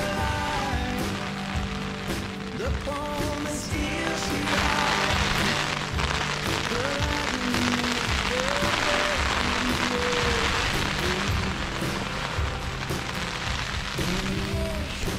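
Steady, dense patter of rain drumming on a tent close by at Aialik Bay, Alaska, continuous throughout, with a brief spoken word near the start.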